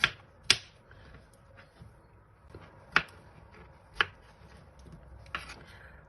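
A knife chopping ginger root on a board, a few sharp, isolated knocks spread unevenly across several seconds against a quiet kitchen background.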